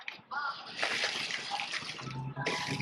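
Water poured from above onto the soil of a freshly planted outdoor transplant, a splashing, gurgling pour of a couple of seconds with a voice briefly audible.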